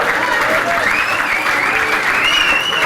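A live stand-up comedy audience bursts into sustained applause, dense clapping from a large crowd filling the room at an even, loud level, with some voices mixed in.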